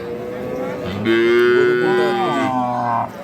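A calf moos at a rural cattle market in Dinajpur where dairy cows are sold with their calves, one loud, close, drawn-out call lasting about two seconds, rising out of low background noise.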